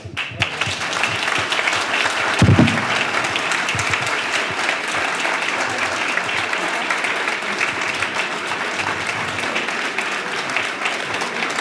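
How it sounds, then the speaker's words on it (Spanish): An audience applauds after a talk by a former public prosecutor on violence, security and justice; continuous, even clapping from a roomful of people, sustained and moderately loud throughout with a small bump of louder claps early on. "Con ese aplauso te agradecen todos."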